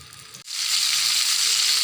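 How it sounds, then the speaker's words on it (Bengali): Pointed gourd (potol) pieces hit hot oil with a sudden loud, steady sizzle that starts after a brief quiet moment and carries on as a dense frying hiss. "দিয়ে দিলাম তেল, তারপর পটলগুলো দিয়ে দেব।"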